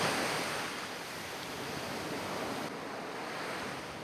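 Rough sea waves surge and break along the Jeju Island coast, a steady, loud roar of surf with gusting wind noise, no voices.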